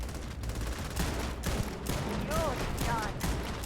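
A person mimics Starfield's sci-fi gunfire with their mouth, producing a steady, breathy hiss of rapid-fire bursts that continues without a break, with a few whistling voiced sweeps near the end.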